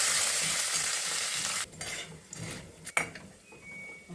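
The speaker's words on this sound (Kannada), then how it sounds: "ಹಾಗೆ ಕರಿಬೇವು ಸೊಪ್ಪು ಹಾಕ್ತಾ ಇದ್ದೀನಿ" Wet, freshly washed curry leaves dropped into hot oil for tempering, giving a loud close sizzle that dies down suddenly, followed by quieter frying and a sharp clink of a utensil against the pan.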